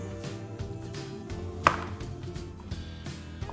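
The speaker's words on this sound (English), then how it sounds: "now we're gonna cut our carrots" A knife cutting carrots on a board with oblique cuts: quiet, irregular chopping taps and thuds, with one sharper knock, over a faint background.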